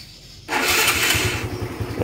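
A Honda Future 125 motorcycle, freshly refilled with Motul oil, fires up abruptly after a moment of quiet and settles into a smooth, steady idle nearby, with no talking over it.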